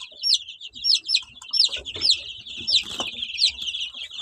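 Fifteen-day-old chicks peep close up in a rapid run of repeated high, rising chirps, with faint scratching and shuffling beneath.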